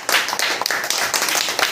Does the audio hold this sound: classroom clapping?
yes